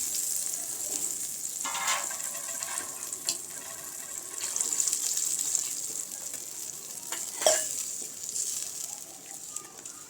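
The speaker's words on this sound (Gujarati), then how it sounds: "તો મસાલા સરસ રીતે તેલમાં થવા દીધા છે મેં અહીંયા અને હવે તે જ વાસણમાં મેં પાણી નાખી દીધું છે" Water poured into a pan of hot spiced oil tempering for a Gujarati village-style vegetable dish, giving a steady close sizzle and bubbling hiss with a few brief splashy bursts, no talking.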